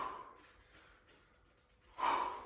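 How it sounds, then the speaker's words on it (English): Heavy breathing comes up close during a golf warm-up exercise: a long, soft exhale trails off, and a sharper, louder breath follows near the end, with no talking. "Breathing."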